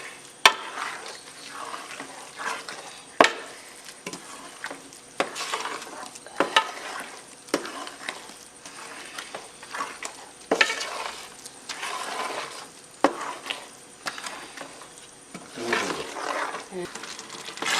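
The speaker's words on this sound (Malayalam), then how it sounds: "ഇനി ഇത് നന്നായിട്ട് ഇളക്കി തേങ്ങയുടെ പച്ചച്ചവയെല്ലാം മാറ്റിയെടുക്കുന്ന പോലെ നന്നായിട്ട് ഇളക്കി വഴറ്റി കൊടുക്കണം" A spoon stirs and sautés grated coconut in thick jaggery syrup in a pan, making irregular scraping and soft sizzling strokes up close, with moments of quiet between the louder sweeps.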